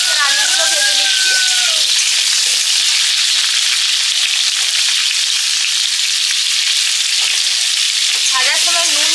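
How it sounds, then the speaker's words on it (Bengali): New potatoes for a meat curry frying in hot oil with chopped onion and salt, giving a loud, steady sizzle throughout, with brief voice-like tones near the start and end. "মাংসের আলুগুলো ভেজে নিচ্ছি।"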